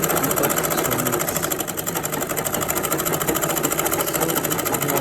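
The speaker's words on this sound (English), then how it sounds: "flip it the way I flip it and top stitch on it" A sewing machine top-stitches cargo pants, running in a fast, steady mechanical chatter that is close and continuous, with one brief slowdown partway through and no talking.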